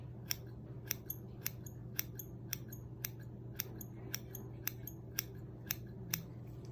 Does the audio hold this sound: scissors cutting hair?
yes